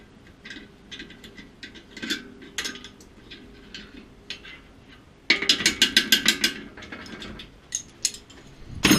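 Mechanical clicking and ratcheting from loosening the chain tensioner on a 2-stroke motorized bicycle, a series of close metallic clicks and rattles that swell into a louder, denser burst partway through.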